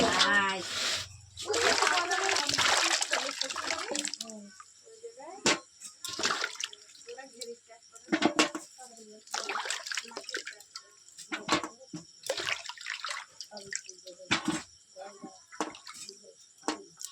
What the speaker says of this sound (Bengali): এবার আমি চাল কুমড়োগুলোকে ধুয়ে নেব, ধুয়ে পরিষ্কার করে নেব।